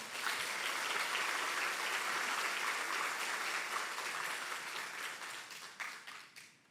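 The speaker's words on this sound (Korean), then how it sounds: "박수 칠까요?" A church congregation applauds during a Sunday sermon, broad crowd clapping that holds steady, then thins and fades to scattered claps at the end, heard at low level.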